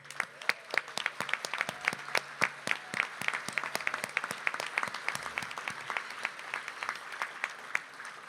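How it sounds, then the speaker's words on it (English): A large audience at a city State of the City address applauds elected officials standing for recognition, with steady dense clapping and scattered sharper claps continuing for several seconds at moderate level. "I invite all current and former elected officials to please stand at this time so we may recognize you with another round of applause."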